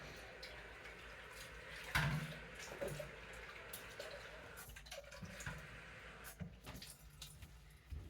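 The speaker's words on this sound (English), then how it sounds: "So let's get some water." Tap water running into a soup jar in a kitchen, a soft, steady flow with a few clinks and knocks of the jar, fairly quiet throughout.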